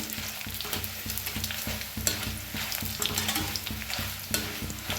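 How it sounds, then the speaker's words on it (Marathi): Corn chivda frying in hot oil, a steady crackling sizzle with stirring scrapes running throughout, close and fairly loud, with no talking. "थोडं थोडं टाकून तळून घेऊया त्याला जास्त उशीर लागत नाही लगेच तळता"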